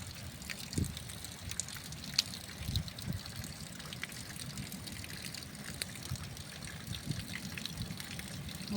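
Rain falling steadily, a continuous soft patter and watery trickle with a few louder drips, fairly quiet and even throughout with no talk.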